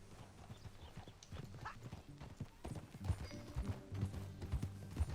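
Horse hooves in Red Dead Redemption 2 clip-clopping in a steady riding rhythm, close and fairly quiet, with a brief whinny and game ambience around them.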